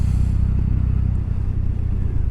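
A heavy motorcycle engine running steadily with a deep, throbbing low rumble, close and continuous with no talk.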